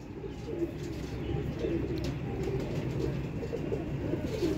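Pigeons coo softly through a steady low murmur, with faint overlapping calls in the background of a bird setup.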